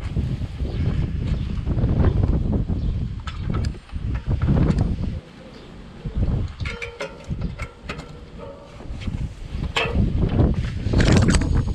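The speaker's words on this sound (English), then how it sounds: "Super windy today." Strong, gusty wind buffets a microphone outdoors, roaring in loud surges with brief lulls, no voices, continuous throughout.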